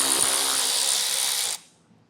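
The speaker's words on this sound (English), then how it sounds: "Now grab your 10mm socket, and there's going to be 2 bolts in this inset, 1 on each side, so we'll get those taken down." A 10mm socket on a power tool spins bolts out of a 2024 Jeep Grand Cherokee front end, a loud continuous mechanical whir and rattle that cuts off abruptly, leaving near silence.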